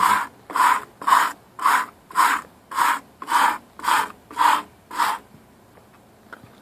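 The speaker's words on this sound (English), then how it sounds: "Just let the brush do the work for you" A brush scrubs the fins of an outdoor AC condenser in ten even, rhythmic rasping strokes, close and clear, then the strokes stop and only faint clicks follow.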